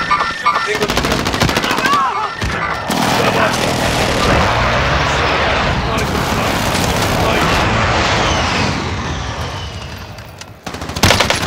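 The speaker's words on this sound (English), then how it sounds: "Friendly precision airstrike inbound." Video game precision airstrike with bursts of rapid gunfire, aircraft roar and explosions, loud and dense throughout, with a voice briefly heard over the barrage.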